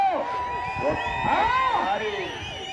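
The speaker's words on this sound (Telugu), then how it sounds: "చక్కగా ఉన్నారు విజిల్లు కేకలు" Spectators at a bullock cart pulling contest whistle and shout, with repeated swooping whistles over a steady crowd roar, loud and close.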